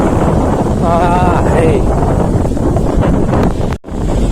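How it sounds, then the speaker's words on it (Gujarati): Strong storm wind roaring through trees during a cyclone, loud continuous gusting with heavy buffeting on the microphone and a brief lull near the end. "તમે આ ઝાડવા જોતા જોઈ શકો કેટલો પવન"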